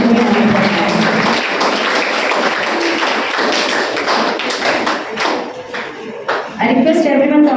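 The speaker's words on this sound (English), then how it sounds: "So a big clap goes for sir" An audience claps for a guest speaker at a school literature event, a dense patter of hands running steadily under a voice talking over it.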